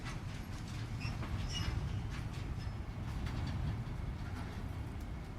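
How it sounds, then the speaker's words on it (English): Monorail ride in Death Stranding 2, a quiet, steady rumble of the moving train with faint clicks and rattles running continuously throughout. "Let's take the monorail all the way to F3 and then continue from there."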